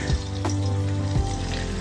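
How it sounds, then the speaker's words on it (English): Steady, loud crackling sizzle of fish deep-frying in hot oil, continuous and close throughout. "You can see the bubbles and hear the beautiful sizzling sound."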